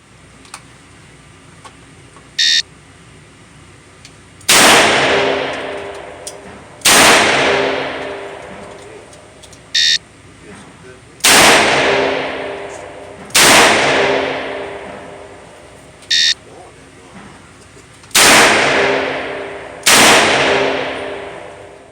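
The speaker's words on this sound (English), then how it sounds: "On command, fire 2 rounds in 3 seconds and assume the ready position" Colt Trooper MKV revolver fired at a shooting range: loud, sharp shots in evenly spaced pairs, each with a decaying echo, separated by short electronic start beeps.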